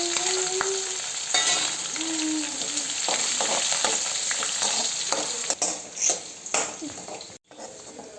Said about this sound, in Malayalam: ഇനി നമുക്കതിലേക്ക് ഒരു 3-4 കഷ്ണം കൊച്ചുള്ളി ഇങ്ങനെ വട്ടത്തിൽ അരിഞ്ഞതും 2 പച്ചമുളക് അരിഞ്ഞതും കൂടി ഇട്ട് കൊടുത്തൊന്ന് ഫ്രൈ ആക്കിയെടുക്കാം.